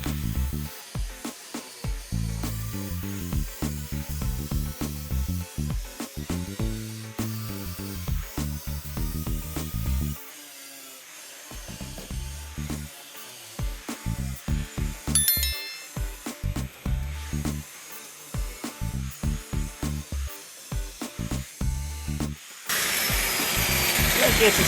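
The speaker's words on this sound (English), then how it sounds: "let's go ahead and grind that sucker down" Grinder working body filler down on a 1972 VW Super Beetle panel, loud and close, in repeated bursts of varying length separated by short pauses, with a stretch of steady grinding near the end.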